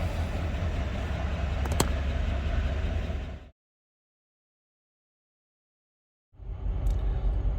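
A truck engine running steadily just after a morning start-up, a close, continuous mid-range rumble that cuts out abruptly for about three seconds before resuming at the same level.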